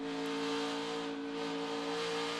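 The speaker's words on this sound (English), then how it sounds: "Listen to him work that throttle." NASCAR Xfinity Series race car at Darlington Raceway, its engine droning loud and steady with strong harmonic tones as the driver modulates the throttle, slight rises and dips in pitch over continuous track noise.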